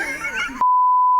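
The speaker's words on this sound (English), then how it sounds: "It's my phone." A mobile phone lets out a single loud, steady electronic beep lasting about half a second, right after a voice in a workshop where a pro mod car is being fitted with a diesel engine.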